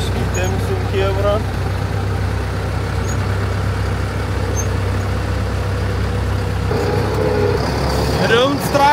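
A tractor engine runs with a steady low rumbling idle that carries on continuously, while people talk over it and a brief mechanical rattle rises near the end.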